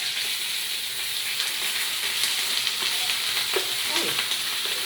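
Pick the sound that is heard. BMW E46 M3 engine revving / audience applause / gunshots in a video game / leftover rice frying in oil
leftover rice frying in oil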